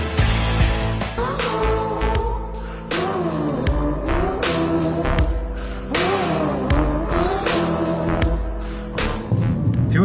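BMW M235i Gran Coupé engine revving hard in a series of sharp bursts from idle, each rising and dropping back, loud and close with no talking.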